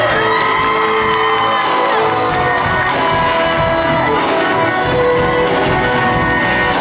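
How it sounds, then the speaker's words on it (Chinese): A large crowd at an outdoor Hakka music concert in Fengyuan, Taiwan, cheers and screams loudly and continuously, whoops and yells rising over a dense roar of applause. "请给我一点掌声加尖叫声"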